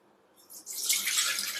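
Water poured into a pot for ragi kichadi, a steady splashing pour that starts faint, then swells loud and bright after about half a second and keeps going to the end.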